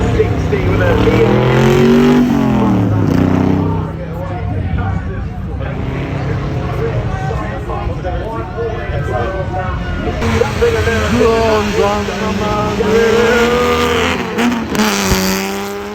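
A Mark 1 car revving hard and spinning through donuts at a car festival, engine pitch rising and falling over tire noise, loud and close, with a commentator talking over it throughout.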